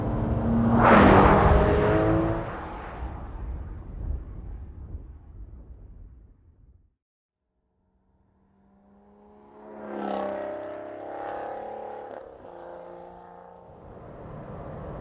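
Sports car driven hard on a race track, one of an Aston Martin GT12, Porsche 991 GT3 RS or McLaren 650S, roaring past loudly then fading to silence before another surge of engine noise builds and drops.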